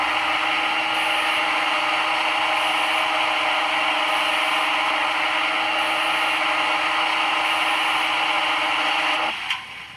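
A CNC lathe cutting a thread runs with a steady, close mechanical whir and a high tonal hum that pulses faintly in regular passes, cutting off abruptly near the end.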